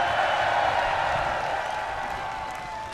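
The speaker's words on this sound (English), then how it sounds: "Give yourselves a cheer." A large metal festival crowd at Bloodstock 2019 gives one continuous roar of cheering and applause, loud and steady, fading slightly toward the end.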